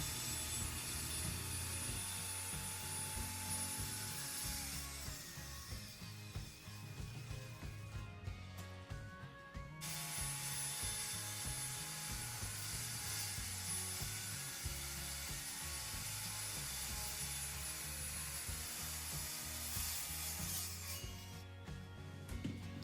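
A jigsaw cuts notches in plywood around the chine stringers and a bulkhead of a boat's cockpit framing. The steady, loud, buzzing saw runs nearly continuously, stopping briefly near the middle before cutting again.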